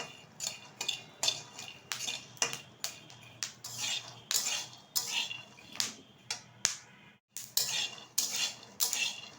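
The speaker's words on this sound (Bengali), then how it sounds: "বাদামগুলো কিন্তু চটপট করে আওয়াজ শুরু হয়ে গেছে, মানে সুন্দরভাবে কিন্তু ভাজা হচ্ছে।" Peanuts dry-roasting in a pan give off a rapid series of sharp, close clicks and pops, irregular and busy, with brief pauses between bursts.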